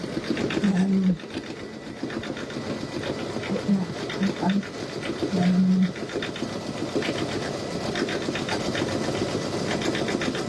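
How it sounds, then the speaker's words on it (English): Brother V5 and Luminaire embroidery machines stitch a Christmas hanging sign together, a steady rhythmic mechanical chatter running throughout, with a voice briefly audible underneath. "I can just sit and listen to these machines."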